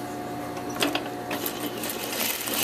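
A sewing machine stitches the corner of a scarf with a rapid, even mechanical whir and a few brief clicks as it starts and stops, close and continuous, with no voices.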